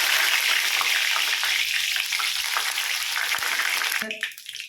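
Curry leaves hit hot sesame oil after mustard seeds have popped while making ambazhanga (hog plum) pickle, giving a loud, steady frying sizzle that drops away sharply near the end.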